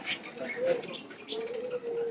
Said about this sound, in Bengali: এটার কোনো নাম নাই, এটি কবুতর